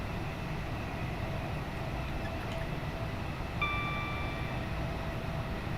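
Steady broadband rumble of a Class 387 electric train on the East Coast Main Line in Train Simulator, heard with the window open, with a few faint high tones entering near the end and no talk.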